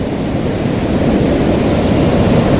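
Roaring waterfall swollen with brown floodwater, heard up close as a loud, unbroken rushing wash with no pauses, steady throughout and with no voices over it.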